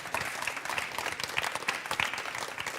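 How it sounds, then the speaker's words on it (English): Audience at a biodiversity-for-business conference applauds its panelists, a steady patter of many hands clapping at moderate distance, fairly quiet and even throughout with no talk over it. "I want to ask you to give a warm applause"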